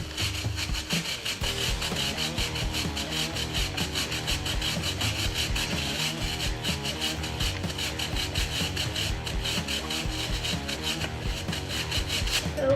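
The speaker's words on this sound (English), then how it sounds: "take our chain cleaning brush, and just go through here" A chain cleaning brush scrubs steadily along a motorcycle chain, giving a continuous loud bristly rubbing and rasping with a fast back-and-forth rhythm, close up and with no speech.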